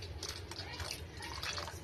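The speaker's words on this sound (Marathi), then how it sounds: "आता ह्यामध्ये आपण पाणी ऍड करून घेऊया थोडंसं" Water poured in a thin stream into chole masala simmering in oil with chickpeas, a soft steady trickle and faint bubbling running under background noise throughout.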